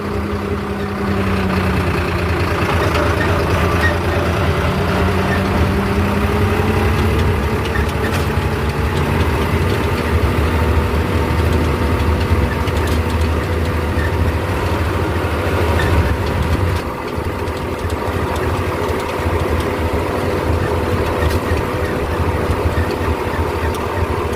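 A Swaraj 969 CRDi tractor engine pulling a sugarcane trolley drones continuously at close range, a steady, heavy, low rumbling idle-like chug with no voices throughout.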